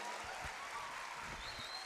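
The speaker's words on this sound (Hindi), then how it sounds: "भरपूर तालियां, बहुत खूब" Steady applause from an audience at a poetry recital, broad and continuous across the whole moment with no voices on top.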